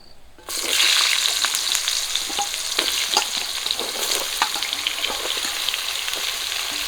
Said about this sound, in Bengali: মাছ ভাজা তেলে আমি ধুয়ে রাখা ঝিঙে আর আলু দিয়ে দেবো